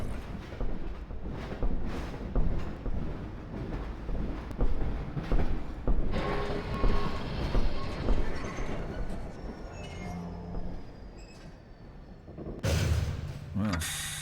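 Train ride through Half-Life 2's rail line into City 17, a steady low rumble of the carriage with rhythmic rattling and mechanical clunks, ending in a louder brake-like burst near the end, under an announcer's voice.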